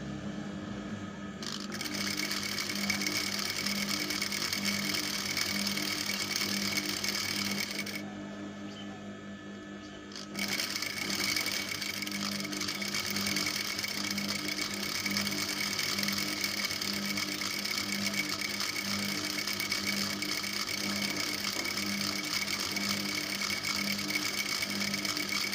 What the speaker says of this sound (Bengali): এভাবে আমি দুটা পা একসাথে মিলিয়ে সেলাই দিয়ে দেব সুন্দরভাবে।